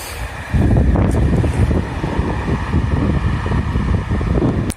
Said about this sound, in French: Le train et le vent en même temps.